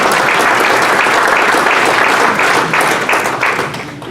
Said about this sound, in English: Round of applause for our first speaker.